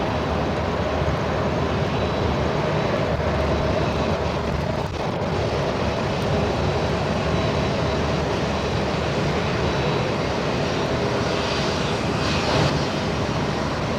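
A Qatar Airways airliner moving at Sydney Airport gives a steady, broad jet engine roar that holds at an even level from start to finish, with no voices over it.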